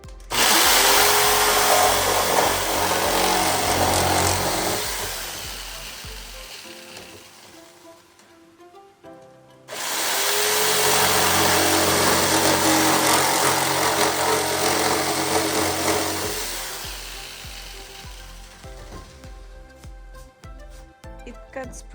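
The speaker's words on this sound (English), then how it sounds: "Another way you can cut out the pieces you don't need is with the jigsaw." A jigsaw cuts through interlocking garage floor tile pieces in two long, loud, harsh buzzing bursts, each lasting several seconds, separated by a brief pause; no talking.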